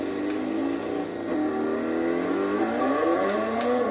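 Car engine in the Forza Horizon racing game, revving and whining through rising and falling pitch sweeps while drifting, loud and continuous with no talking.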